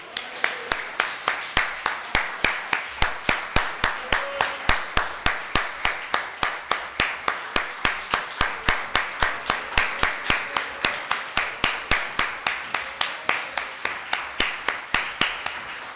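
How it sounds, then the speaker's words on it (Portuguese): A church congregation clapping together at a worship service in Guaianazes, São Paulo: steady, rhythmic unison claps at about three per second, sustained and loud for the whole stretch. "Vamos aplaudir o Senhor Jesus Cristo?"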